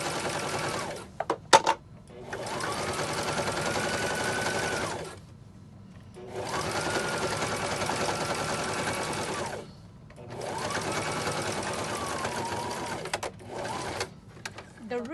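A serger sewing machine top stitches a zipper pouch in three sustained whirring bursts separated by short pauses and brief clicks, close and clear.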